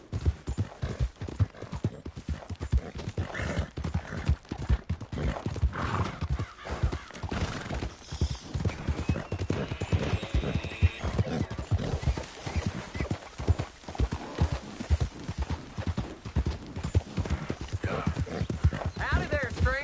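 Steady clip-clopping horse hooves on a trail in the Western video game Red Dead Redemption II, continuous and fairly close, with an occasional whinny, game music and a voice talking over them.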